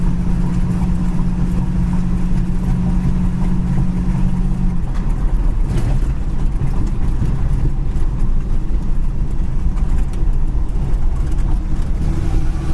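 A 1955 Chevy pickup truck driving at about 35 to 40 mph on a bumpy town road, a loud, constant engine drone and road rumble heard from inside the cab.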